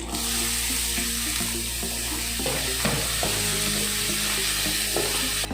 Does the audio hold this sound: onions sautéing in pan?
yes